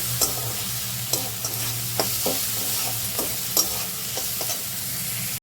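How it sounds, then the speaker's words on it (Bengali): Food being stirred with salt in a frying pan, a constant close sizzle broken by regular scraping strokes of a spatula against the pan. "লবণ দিয়ে ভালো করে আগে নাড়াচাড়া করে নেবো"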